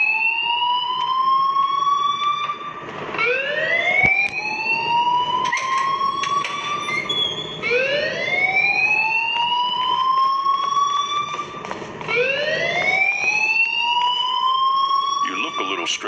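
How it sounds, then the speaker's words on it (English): A rising and falling alarm siren rings in Life is Strange, sweeping upward in repeated wails about every two to three seconds, loud and continuous across the whole stretch with a steady background beneath it. "please turn off that alarm since that's your job"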